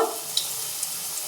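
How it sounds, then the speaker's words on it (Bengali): Raw banana kofta balls frying in hot oil give a soft, steady sizzle with a few faint crackles and pops scattered through it. "দুদিকটা ভালোভাবে লাল লাল করে ভেজে নেব"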